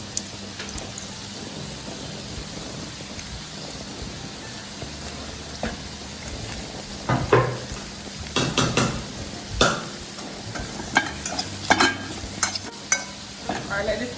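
Carrots and other vegetables, with bay leaf and pepper, frying in a pan while being stirred, a steady soft sizzle broken by clustered scraping and clinking stirs in the second half, close and fairly loud.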